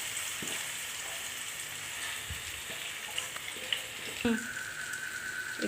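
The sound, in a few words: boiled olives frying in hot oil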